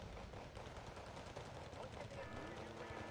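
Heavy machine guns fire nonstop in the Wargame Red Dragon strategy game, a dense continuous rattle of bursts layered with distant battlefield gunfire, loud and unbroken throughout.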